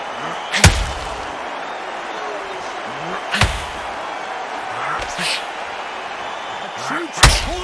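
Heavy punches land in Undisputed boxing during Jake Paul vs KSI at an arena venue: four hard slamming thuds spaced a few seconds apart over a constant crowd roar, with a commentator talking throughout.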